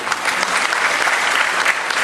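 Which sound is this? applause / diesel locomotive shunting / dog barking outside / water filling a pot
applause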